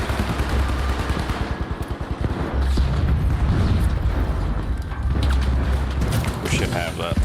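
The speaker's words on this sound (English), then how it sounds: "AK just does all the damage." An AK rifle rattles off rapid automatic bursts in the arena shooter The Finals, loud and close against a dense backdrop of other gunfire, mechanical clatter and booms.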